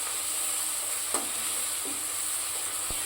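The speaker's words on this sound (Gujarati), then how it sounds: "ડુંગળીનો કલર થોડોક ચેન્જ થાય ત્યાં સુધી આપણે આને સાતળશું" Sliced onions with grated ginger sauté in a hot pan, producing a constant loud frying hiss with a couple of faint utensil clicks.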